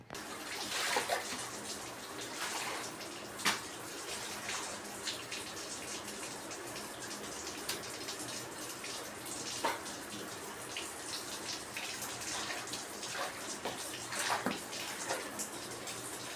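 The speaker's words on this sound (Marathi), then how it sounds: "बाकीचा जो उरलेला जागा आहे तो मी वॉटर वॉश करून घेत असते" Water splashes and runs across a home balcony floor during a wash, with intermittent sloshing bursts and pouring over a steady wet background, fairly close and moderately loud, no talking.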